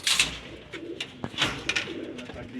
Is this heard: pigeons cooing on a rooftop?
yes